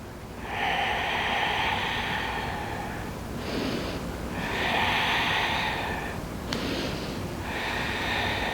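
Slow, deep breaths during a yoga stretch in a horse squat, with about four long airy inhales and exhales in a steady rhythm, close and fairly loud with no talking.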